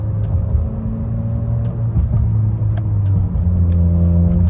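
Engine of a 2018-2022 Honda Accord Sport running steadily as it shifts up through the gears by paddle shifters, a continuous close drone with shifting pitch and no clear revving peaks.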